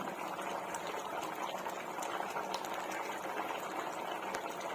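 A pot of chicken biryani made with basmati rice simmers on medium flame, giving a soft, even bubbling hiss with faint crackles, close by and steady throughout, no voices.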